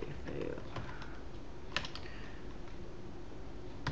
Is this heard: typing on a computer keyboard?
yes